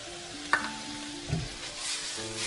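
Edamame stirred into a hot pan of frying rice and vegetables, a steady close sizzle with a couple of sharp scraping stirs.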